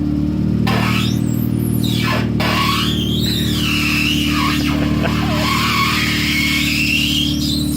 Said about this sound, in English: Slam on the brakes when you get there.